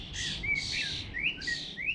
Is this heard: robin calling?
yes